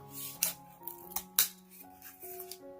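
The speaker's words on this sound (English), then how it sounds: "So I'm just going to cut this out now." Scissors cutting a moon shape out of paper, a few distinct close snips with quiet gaps and faint handling noise between them.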